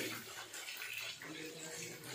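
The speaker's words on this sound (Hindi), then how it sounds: "फुल जो गरम ऑयल है उसमें आपने इसको फ्राई करना है" Fish frying in hot oil over medium heat in a pan, a steady close hissing sizzle with no pauses.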